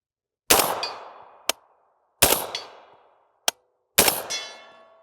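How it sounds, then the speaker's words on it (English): Rifle ammunition fired through a SilencerCo Omega 9K suppressor outdoors, three loud shots evenly spaced about every second and a half. Each has a sharp crack and a ringing decay, followed about a second later by a short metallic clink. "Let's see how the 9K does with rifle ammunition."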